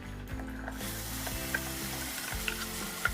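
Chili masala sizzles and fries in a pan with curry leaves as it is stirred, a steady hiss broken by sharp metallic scrapes and clinks of the utensil, with no voices.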